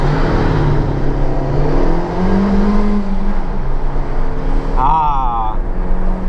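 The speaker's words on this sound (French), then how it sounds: "Je vais tester ma bagnole." A driver's own Alfa Romeo car out on a test drive, its engine a steady, close droning hum from inside the cabin, with someone talking over it throughout.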